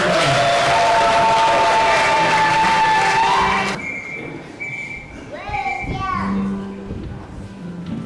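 A church congregation in Kariakoo breaks into applause and cheering, dense and loud for a few seconds before cutting off abruptly, followed by quieter voices of children and adults talking.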